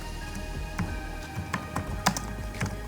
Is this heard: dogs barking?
no